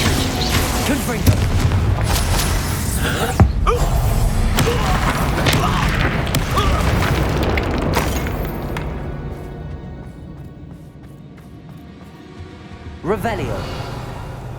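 Hogwarts Legacy combat with Confringo fire blast spells: loud booming blasts and crashing impacts over a busy game soundtrack, with a speaker talking over it and a sharp burst near the end.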